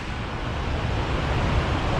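Cascade des Combes, a waterfall in the Jura, gives a steady, dense rushing roar that stays loud and even for the whole stretch, with no voices over it.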